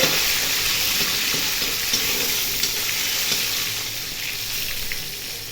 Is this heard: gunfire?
no